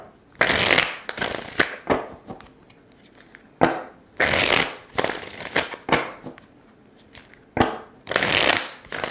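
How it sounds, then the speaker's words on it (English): A deck of tarot cards is shuffled in repeated riffle bursts, each a crisp, close rustling flurry lasting about a second, separated by short pauses in a rhythmic pattern, with no talking. "I'll shuffle the cards and get ready"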